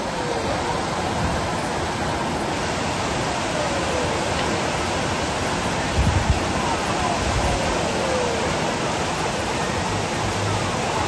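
Floodwater from a river that burst its banks rushes through a flooded village, a steady, loud roar of churning water with a brief thud midway.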